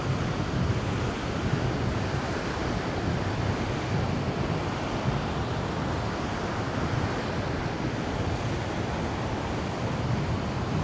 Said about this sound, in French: C'est la plage du kitesurf.